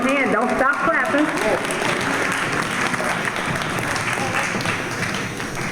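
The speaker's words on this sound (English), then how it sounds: "Give them a hand. Don't stop clapping." A large audience claps steadily for a long-married anniversary couple, dense sustained applause filling the room, with a voice briefly audible at the start.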